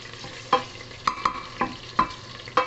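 Garlic fries quietly in a pan while a utensil scrapes and stirs about six times in an uneven rhythm, each stroke a sharp knock over a faint sizzle.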